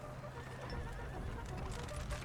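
Cavalry horses in a Total War battle set in the Napoleonic wars whinny amid hoof clatter, layered over dense, continuous battlefield noise at moderate volume.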